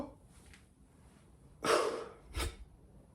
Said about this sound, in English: Exhale, reset the breath.